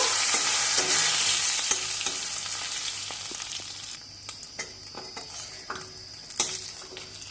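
Rohu fish sizzles steadily in hot mustard oil, a loud broadband hiss that gradually quiets, with occasional clinks and scrapes of a spatula against the pan and no talking.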